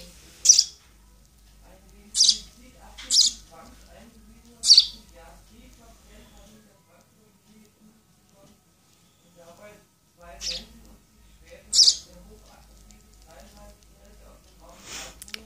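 A hand-reared baby house sparrow gives sharp, high chirps in short separate bursts, about half a dozen over a quarter minute, close and clear while it is fed, with a person speaking quietly between the calls.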